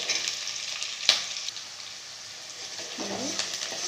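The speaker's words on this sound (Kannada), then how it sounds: "ಅದಕ್ಕೆ ಸ್ವಲ್ಪ ಮೆಣಸಿನ್ಕಾಯಿ ಹಾಕಿ ಚೆನ್ನಾಗಿ ಫ್ರೈ ಮಾಡ್ಕೊಳ್ಳಿ" Green chillies frying in hot oil for aloo palya, a steady close hiss of sizzling with a sharp clink near the start and faint low voice-like sounds toward the end.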